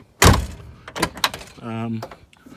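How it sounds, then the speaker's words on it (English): A 1971 BMW 2002's door swings shut with a single loud, close thunk, followed by brief rattles and a low hum, with no talking. "Door doesn't drop, and let's close it."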